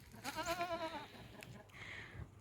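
Goats in a growing farm herd, with one clear, wavering bleat rising and falling for about a second, followed by fainter rustling and a softer call further off, in a quiet outdoor setting with no talking.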